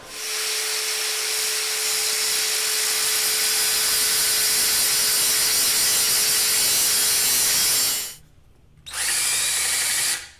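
A power saw cuts a slit into a salvaged knob, running loud and steady for about eight seconds, pausing briefly, then biting in again until the end.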